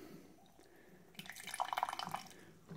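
Hot water runs from the dispenser of a Fetco CBS-31A coffee brewer, a faint hiss then a burst of splashing, gurgling pour into a container for about a second and a half.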